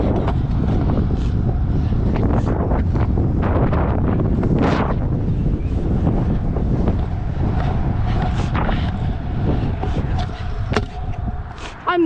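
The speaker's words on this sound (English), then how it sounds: "The freaking wind goes like way too fast" Strong outdoor wind buffeting the microphone at a skatepark, a constant loud low rumble throughout with faint skateboard rolling and clacks mixed underneath.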